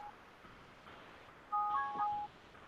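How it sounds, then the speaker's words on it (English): A short burst of telephone keypad dialing tones, several beeps run together for under a second, stands out clearly over a faint, steady background hiss. "It's your damn phone."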